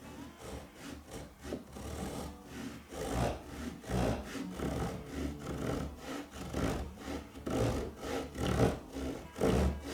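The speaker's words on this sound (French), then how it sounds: "Et on va scier jusqu'à atteindre nos 2 marques" A hand saw without set cuts into wood down to marked lines with steady back-and-forth rasping strokes, close and rhythmic, about two strokes a second throughout, with no talking.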